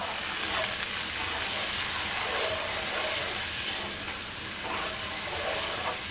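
A pot of water and rice for a fish and rice dish heats toward a boil, giving a loud, steady, close-up hiss and bubbling roar that holds without a break.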